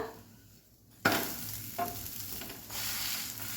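A thalipeeth shallow-frying in oil in a pan gives a soft hiss that jumps into a louder sizzle as it is flipped, with a brief clatter, then a steady crackle.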